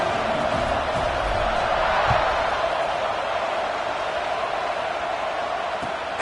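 Football stadium crowd at a Penn State vs Tennessee game buzzing after a score, a steady broad roar of many voices that stays loud and continuous throughout, with no clear cheers standing out.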